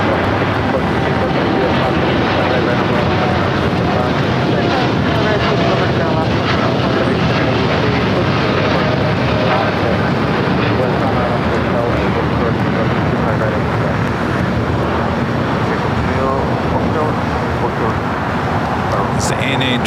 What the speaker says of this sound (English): It's the ANA Dreamliner heading to the gates of Tom Bradley